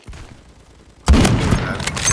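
An M60 machine gun fires in a video game, a sudden loud burst of dense booming gunfire that breaks in after a second of quiet and continues to the end.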